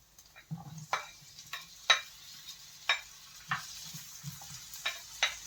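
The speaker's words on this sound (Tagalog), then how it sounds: "Gisahin ko na yung aking bawang. Saka sibuyas. Lagay ko na yung aking sibuyas." Garlic and onions sauté in a pan for pancit bihon. Regular spatula taps and scrapes against the pan, roughly one each half second, sit over a faint, low background sizzle.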